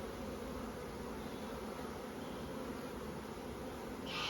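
Honey bees buzzing around an open hive during an inspection, a dense continuous hum of many insects close by, steady and fairly faint with no voices.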